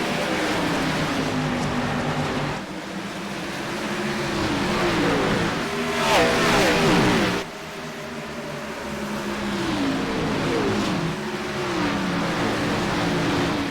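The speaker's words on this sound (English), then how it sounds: "And we are green, 35 cars off and away here at Bristol." Thirty-five race cars in an AREA Pro Series field roar off the green flag at Bristol, engines rising and falling in pitch as the pack surges past in loud, overlapping waves.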